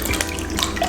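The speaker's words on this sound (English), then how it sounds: "we're gonna pour our wet into dry" Wet ingredients are poured into a bowl of dry pumpkin mochi mix, giving a brief, close, watery splashing and trickling sound with no talk.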